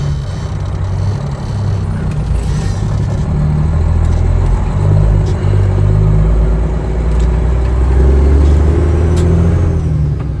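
A truck with a 389 engine, just repaired, drones loud and close as it pulls under load, its low rumble rising steadily as the revs build.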